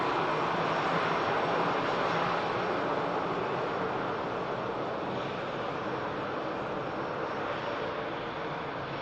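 An EasyJet airliner taxis at Manchester Airport as a steady, broad jet engine roar with a wind-like rush that holds at an even, fairly loud level throughout, with no voices.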